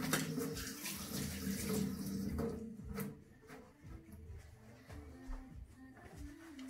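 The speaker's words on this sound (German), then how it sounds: "Die Hände gut waschen." Hands being washed under a running kitchen tap while making a Swiss-style Three Kings cake: a steady, fairly loud rush of water that thins and quiets about halfway through, with light splashing and no talking.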